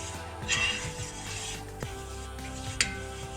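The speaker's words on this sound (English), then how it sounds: "Add 1 tablespoon of flour. And keep stirring it." Flour is stirred in a cooking pan with soft scraping and rubbing strokes and a faint sizzle, plus a couple of light utensil taps against the pan.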